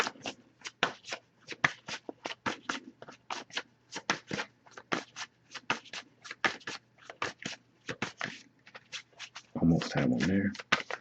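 A tarot card deck is shuffled by hand close up, with quick, rhythmic bursts of card flicks repeating throughout and a denser, louder flurry near the end.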